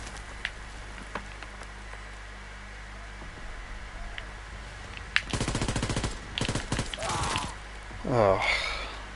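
Rapid machine-gun bursts rattling in Call of Duty WW2, loud dense volleys after a quiet rainy-sounding stretch with scattered faint shots, followed by a voice speaking.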